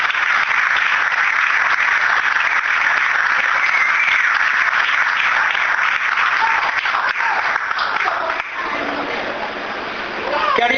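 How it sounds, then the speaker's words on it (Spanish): A congregation in a church service claps in sustained, dense applause that fills the room, then thins and fades toward the end. "Démosle un aplauso al Señor, aleluya."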